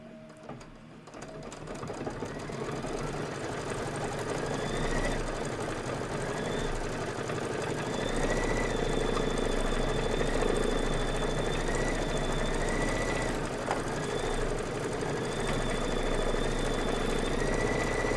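An embroidery machine stitches a quilting pattern of little cups, a rapid, steady mechanical whirring hum with a rhythmic needle clatter that runs continuously, close and moderately loud.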